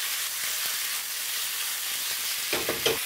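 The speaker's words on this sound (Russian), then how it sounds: "Кальмар сразу начинает обжариваться вместе с чесноком." Squid pieces frying with garlic in a hot pan, a steady close sizzle that hisses throughout, with a few scraping stirs near the end.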